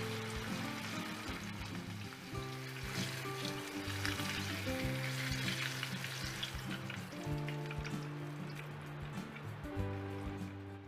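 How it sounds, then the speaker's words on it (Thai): Tilapia frying in very hot oil in a pan over medium heat, a steady dense sizzle and crackle with constant popping, close and even throughout with a low hum beneath, no talking. "ตั้งกระทะเปิดไฟกลางพอน้ำมันร้อนจัดใส่ปลาลงไปทอดเลยค่ะ เราจะทอดให้สุกเหลืองทีละด้านนะคะ"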